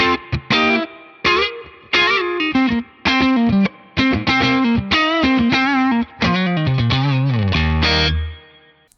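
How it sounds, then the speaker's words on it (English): Electric guitar played through a Neural DSP Princeton amp model with spring reverb. Loud, close chords and single-note phrases come in rhythmic bursts, each trailing a springy reverb tail, then the last chord rings out alone. "They've nailed that spring reverb sound on that."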